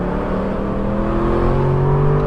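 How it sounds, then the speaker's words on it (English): A 2012 Aston Martin V8 Vantage roars up a canyon road, its engine a loud, continuous droning growl that rises slowly in pitch as it accelerates, with no talking. "This ferocious roar is chasing you up this canyon."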